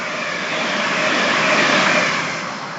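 A Class 387 electric train runs through on the East Coast Main Line at Hatfield, on the service from Ely to London King's Cross. It gives a steady, loud broadband rush that swells slightly in the middle and eases at the end, with no voices.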